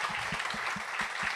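Studio audience applauding a podcast guest, a dense steady patter of claps at moderate level with a faint low rhythmic thumping underneath, no voices over it.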